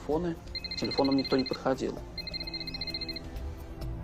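A mobile phone rings in two bursts of repeated electronic trill tones over a quiet background, with people talking near the start. The setting is the search for a crashed plane's passengers in the mountains south of Bogor.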